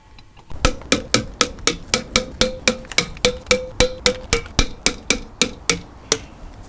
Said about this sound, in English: Last thing, tightening the wheel nuts.